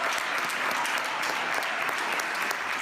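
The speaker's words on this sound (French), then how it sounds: "des applaudissements massifs à 21h précises en soutien aux personnels hospitaliers" Massive crowd applause in Madrid at exactly 9 pm in support of hospital staff, a dense, sustained wall of clapping from many people that holds steady throughout.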